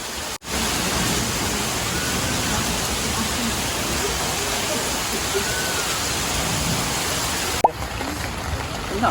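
Heavy rain pours steadily around a campsite at a Thai national park waterfall in Saraburi, a dense, constant hiss that fills the whole clip close by, with a brief break near the start and a short knock toward the end.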